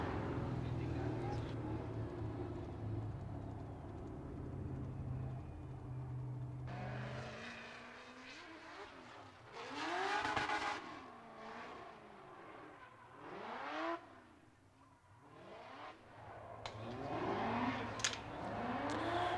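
A Formula Drift Pro 2 car at a qualifying run in St. Louis, engine revving hard with rising and falling pitch sweeps and bursts of tire squeal, loud and fairly close, with a commentator talking over it throughout.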